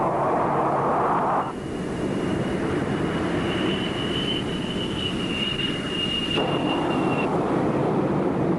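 A jet aircraft lands on an aircraft carrier deck, heard as a constant heavy roar with a thin high whine running through the middle stretch.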